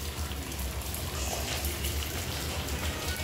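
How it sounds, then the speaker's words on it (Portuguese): Heavy rain pours down in a dense, steady hiss, loud and close, with no break throughout, on a São João festival night in Santana do Ipanema, Alagoas, Brazil. "Muita chuva mesmo que está aqui."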